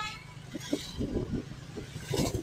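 Cars and motorcycles pass through a busy market crossroads in Haldwani after the first monsoon rain. Engines rumble and rev close by in a dense run, with a voice talking over the traffic.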